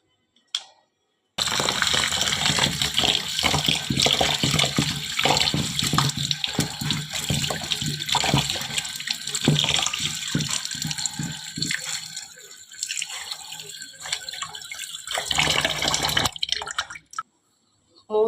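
Biryani rice being washed in water, with running and splashing water from a tap into a vessel, close and continuous, pausing briefly near the end.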